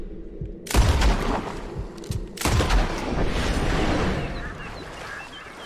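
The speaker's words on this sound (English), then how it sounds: "the easiest thing to do, I think, is to just go into the water and shoot some fish" Gunfire in a hunting video game, shots fired into water at fish: two sharp loud blasts about two seconds apart, each followed by a long booming wash and splashing roar that lingers to the end.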